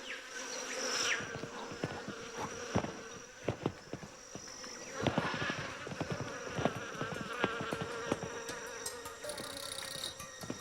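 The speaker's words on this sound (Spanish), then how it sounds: "al menor movimiento de Pablo, las avispas sin razón parecen enloquecer" Wasps swarm agitatedly in a jungle setting, a dense, restless buzzing with many sharp crackling bursts and rising and falling intensity, close and continuous.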